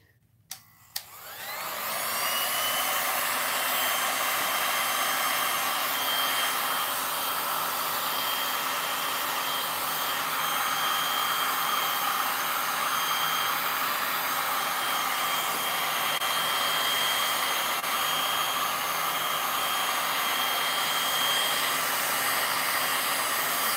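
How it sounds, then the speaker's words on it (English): A hot air tool heating resin for painting switches on after a couple of clicks and then blows continuously with a steady, loud whooshing hiss, close by. "I'm gonna heat the resin a bit more."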